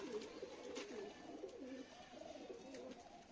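Several pigeons coo in steady overlapping rounds, close by and fairly soft, at a pigeon breeder's loft with paired Bajri and Garri hens and a golden Bajra male, with no talk over them.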